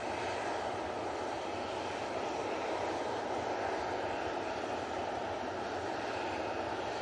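An ATR turboprop airliner lands at Manchester Airport in gusty crosswind conditions, its engine roar steady and broadband throughout, loud and sustained with no voices.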